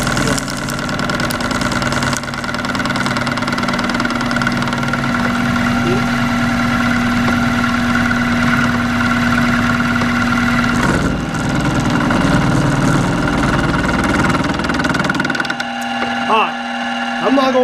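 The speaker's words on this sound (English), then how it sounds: "I'm not going to bore you with all this milling" A small milling machine cuts metal with a steady motor hum and grinding chatter, a sustained tone changing partway through, the cut winding down near the end.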